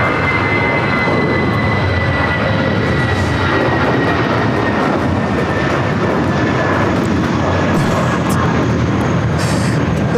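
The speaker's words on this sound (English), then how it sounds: "That's Spirit Airlines 2526 taking off to Louisville on the A320" A Spirit Airlines A320 takes off at LAX bound for Louisville, making a loud, sustained jet engine roar with a steady whine that holds throughout, and no voices are heard.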